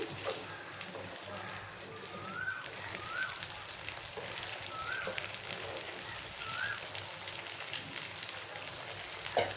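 Fried chicken for chicken pickle, mixed back into a pan, sizzles in a constant dense crackle like light rain, close and fairly even throughout, with a few faint chirps above it.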